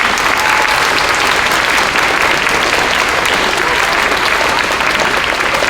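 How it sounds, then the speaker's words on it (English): A school concert crowd gives loud, sustained applause for the Harrington school staff, a thick wash of clapping from many hands that continues steadily throughout. "Let's have a big round of applause for our Harrington staff"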